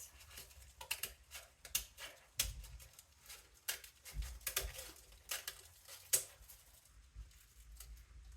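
Quiet, intermittent snips of scissors trimming excess paper from a handmade plantable card, with irregular crisp cuts and soft handling noises between them in a still room.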